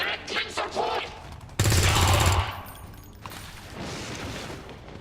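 Gunfire erupts during a battle in XCOM 2: a loud, dense burst of rapid shots for about a second, then rumbling battle noise. A voice speaks briefly just before the burst.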